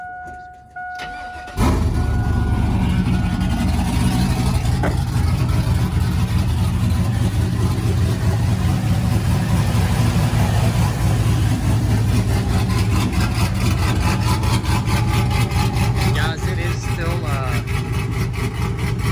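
A Silverado truck with a V8 swapped in for its V6, a loose stage 2 cam and no muffler fires up and settles into a loud, steady, choppy idle that runs throughout, heard up close.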